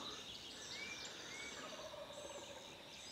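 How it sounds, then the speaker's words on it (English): A wild turkey gobbles in the morning, the rapid warbling call carrying over a quiet outdoor background, moderately distant and standing alone without any talk. "there was a good loud gobble"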